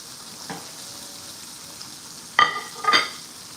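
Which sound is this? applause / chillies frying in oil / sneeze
chillies frying in oil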